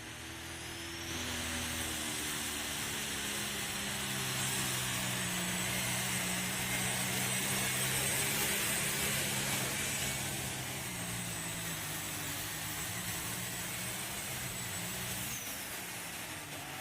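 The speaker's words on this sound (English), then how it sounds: "Here comes your #1 tractor in points." Pulling tractor engine at a tractor pull in Iowa, a loud sustained roar with layered droning harmonics that builds after a quiet second and holds steady for about fifteen seconds, heard alone without talk.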